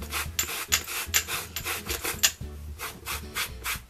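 Sandpaper rubs back and forth over a denim jeans pocket in quick, regular rasping strokes, close and fairly loud, about two strokes per second with no talking.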